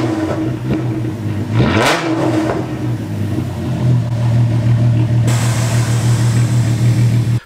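A VW R36 Passat revs its engine, the exhaust rising sharply in a quick blip and falling back, then settling into a loud, steady idle drone close by.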